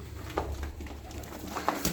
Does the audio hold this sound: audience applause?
no